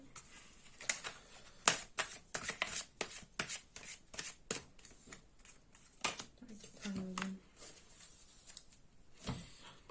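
Tarot and angel cards being drawn and shuffled by hand: a close, irregular run of crisp snaps, flicks and papery slaps, with quieter rustling between and a brief murmur of voice near the middle.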